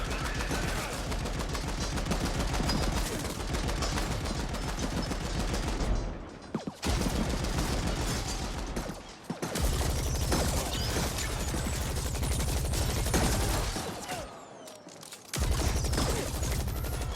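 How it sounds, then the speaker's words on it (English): Rapid bursts of automatic gunfire and heavy weapon shots from the sci-fi shooter video game The Ascent, loud and dense, firing almost continuously with brief pauses. "you'll just want to use the guns because they sound so damn good"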